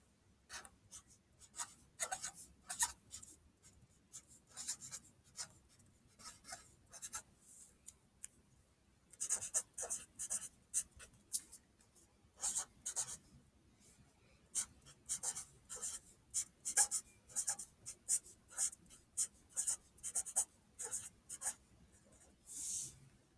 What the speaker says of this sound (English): So I'm going to write my fact